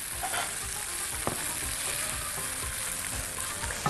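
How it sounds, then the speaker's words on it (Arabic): Orzo pasta sautéing and browning in a hot pan gives a steady sizzle and fry, with soft scraping stirs throughout and no voices. "بصوا بدا لسان العصفور اهو يتشوح معانا ويتحمر كمان"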